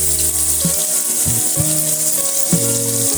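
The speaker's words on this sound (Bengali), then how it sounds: "পেঁয়াজটা লাল করে ভেজে নেব" Onions fry in a pan with a constant close sizzling hiss, punctuated by a few brief clunks and tonal hums from the cookware.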